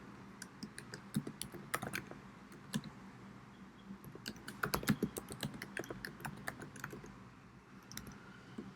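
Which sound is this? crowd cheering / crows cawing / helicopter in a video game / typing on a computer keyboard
typing on a computer keyboard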